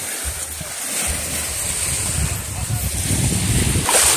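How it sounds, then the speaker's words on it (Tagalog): Sea waves at a beach in San Juan, Batangas, rush and roll against a backdrop of wind rumble, a continuous surging wash that grows louder toward the end. "Dagat na, dagat."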